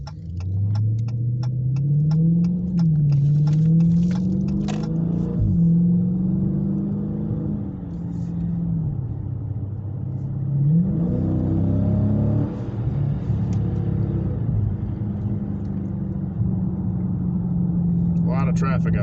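Engine of a 392 muscle car fitted with a cold air intake, a steady low throbbing drone with revving swells as it pulls away on back roads, with someone talking over it throughout.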